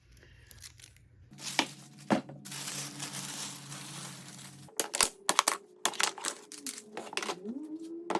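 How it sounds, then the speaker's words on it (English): Dried wood glue being scraped off a guitar neck blank, with rough, irregular scraping and crackling strokes, a longer steady scrape early on, then quick choppy bursts close up. "I've let this glue sit up about 45 minutes, and I've started to scrape it off"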